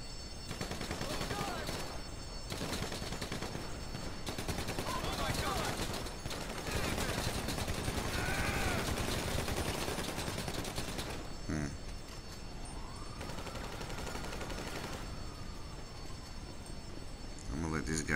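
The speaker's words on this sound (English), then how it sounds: "I hear gunfire." Rapid bursts of gunfire crackle repeatedly over a steady noisy background, with some short gaps, sounding like a busy firefight in a game.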